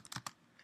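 Several quick key clicks from typing a terminal command on a Mac keyboard, a few crisp taps in an irregular rhythm, close and fairly quiet, with no talking.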